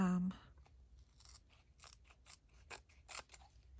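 Scissors cutting through a laminated paper sheet for a junk journal craft: a string of close, crisp snips and crunches, with a brief voice at the very start.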